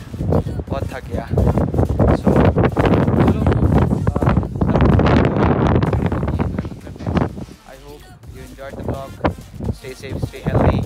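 Strong wind blows in the mountains near Kazbegi, Georgia, buffeting the microphone in loud, continuous gusts with rustling bursts. It eases briefly near the end, and speech can be heard under it.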